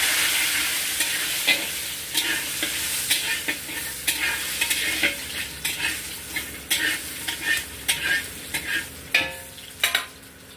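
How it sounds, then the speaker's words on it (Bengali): Lentil dumplings (bori) fry in white oil in a pan, giving a bright, steady sizzle close by. Sharp utensil clacks and stirring scrapes become louder and more frequent toward the end, with no speech. "বড়িটাকেও ভালো করে ভেজে নেবো"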